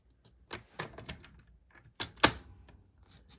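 Paper trimmer slicing through cardstock along a score line while making a flipped triangle card: a few soft clicks and rustles, then a single sharp, close cutting snap, with quiet handling noise around it.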